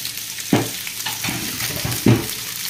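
Fish pieces sautéing in a pan for a cassolette, a steady soft sizzle with two sharper bursts of frying as the food is stirred and turned, heard close.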